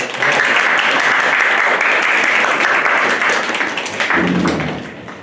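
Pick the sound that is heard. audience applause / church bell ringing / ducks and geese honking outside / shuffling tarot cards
audience applause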